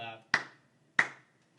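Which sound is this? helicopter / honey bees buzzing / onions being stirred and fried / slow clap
slow clap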